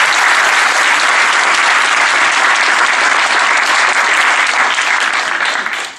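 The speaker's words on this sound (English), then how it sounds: "Please give them a round of applause." A loud, dense round of applause from an audience at a live Christianity versus atheism debate, a continuous wash of clapping at full strength that only starts to drop in the final moment.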